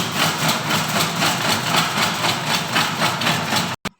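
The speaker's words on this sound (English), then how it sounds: "Now we are going to start the sieve shaker machine so that it will get sieved" A laboratory sieve shaker machine sieving aggregates runs with a loud, steady rhythmic rattling and buzzing pulse that stops abruptly near the end, with no talk over it.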